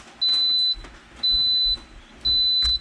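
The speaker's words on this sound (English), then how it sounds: "In 8 hours, it will beep at us." Three evenly spaced high-pitched electronic beeps from an Instant Pot finishing yogurt, each about half a second long, clear against quiet background clatter.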